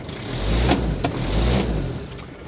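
An old moped engine idles and putters up close, a steady low rumble with a few sharp clicks and bumps on top, no speech.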